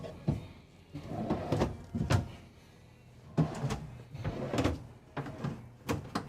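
Cabinet drawer in a 2024 Newmar Mountain Aire 3825 motorhome opened and handled, giving a series of close wooden knocks, slides and clunks in irregular bursts with short quiet gaps between.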